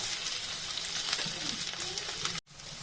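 Onion and capsicum fry in a pan for mushroom manchurian, a soft, steady sizzle close by, ending with a brief dropout.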